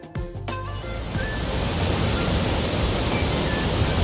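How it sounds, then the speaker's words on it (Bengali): Thunderous roar of the Rhine Falls in Switzerland, a dense, steady wash of crashing water that swells in after a brief rustle and holds loud and continuous with no voices. "আওয়াজ শুনতে পাচ্ছেন রাইন ফলসে?"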